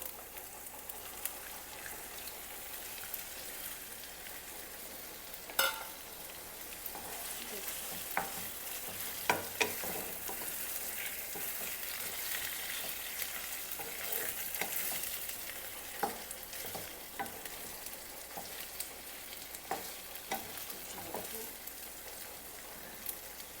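Prawns fry in a pan for a curry with a quiet, steady sizzle, broken by scattered sharp clicks and scrapes of a spatula stirring, all fairly faint and without talk.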